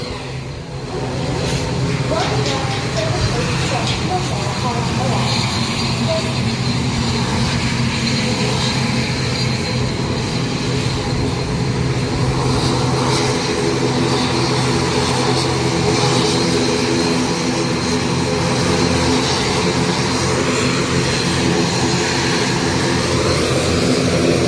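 Airplane engines at Jaffna airport, where IndiGo flights operate, a steady loud roar with propeller-like tonal bands holding throughout, with faint voices in the background.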